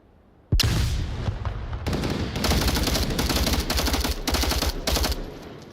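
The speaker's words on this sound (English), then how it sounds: "He's actually shooting above his head, just kind of blind firing it" Gunfire in the VR shooter Onward during a tournament match: sudden loud bursts of automatic rifle fire, repeated in dense rapid strings with brief gaps, close and dominant with no talking.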